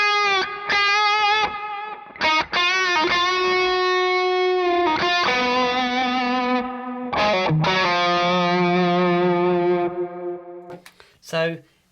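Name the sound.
overdriven guitar with delay and reverb in front of amp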